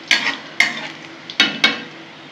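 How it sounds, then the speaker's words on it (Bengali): Garlic fries in a pan under a low background sizzle, punctuated by four sharp metallic scrapes and clinks of a utensil stirring, close and fairly loud, with no talking. "রসুনটা একটু ভাজা ভাজা করে নেবো বন্ধুরা।"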